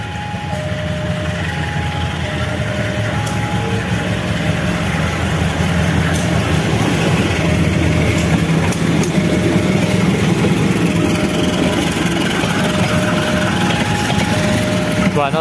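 A CC204 diesel locomotive engine idles with a steady low rumble, while a repeating two-tone chime plays in the background.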